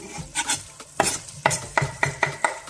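A spoon stirs fish court bouillon ingredients with chopped flat parsley in a pan, giving about eight brisk, rhythmic scraping strokes over a faint sizzle, close and clear.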